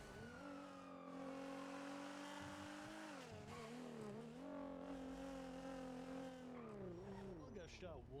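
A car in the GTA V NoPixel roleplay game drives steadily with a continuous engine drone that rises and falls in pitch as it revs and eases off, with speech audible over it throughout.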